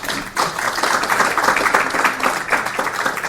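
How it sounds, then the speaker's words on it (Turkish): An audience applauds at a poetry gathering in Ankara, a steady, moderately loud patter of many hands that starts abruptly and continues evenly. "E, buna bir alkış alabilir miyiz?"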